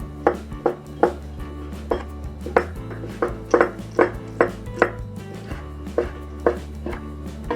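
Soaked mushrooms are sliced with a knife on a cutting board for a thick gravy noodle dish. Crisp, regular knife taps land about twice a second, close and distinct over a faint kitchen hum, with no speech.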